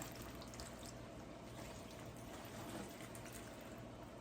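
Water poured onto a potted plant, a steady continuous trickle and splash running throughout at moderate level with no talking.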